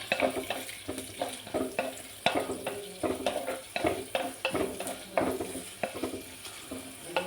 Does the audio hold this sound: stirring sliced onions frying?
yes